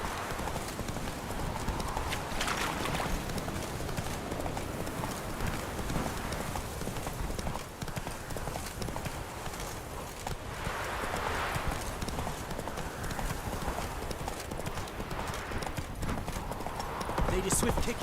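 Roach the horse galloping in The Witcher 3, a steady rapid clip-clop of hooves running continuously under a voice talking.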